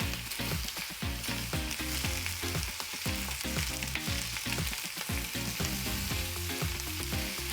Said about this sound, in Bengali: এবার আমরা তেল গরম করে আলুগুলোকে দিয়ে দিচ্ছি